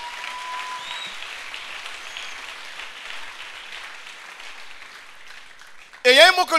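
A church congregation applauding and cheering the Lord at a faith seminar, a steady wash of clapping and crowd noise, with a loud voice breaking in over it near the end.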